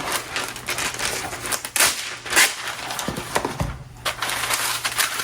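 Crinkly rustling and crackling as parchment paper is handled and pressed into a baking pan, with bursts of crisp crumpling and a few soft knocks nearby.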